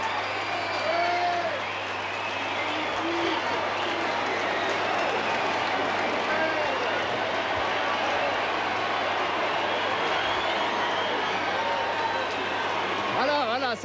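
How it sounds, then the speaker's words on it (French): A large crowd in Reims watching the total solar eclipse of 1999, a dense, steady roar of many voices and cheering, with no single voice standing out. "Écoutez la foule."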